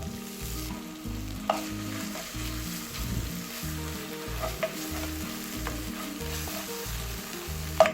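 Crushed ginger, garlic and green chillies fry in leftover fish-frying oil with a steady, close crackling sizzle, with occasional sharper pops and light stirring clinks over a constant hiss.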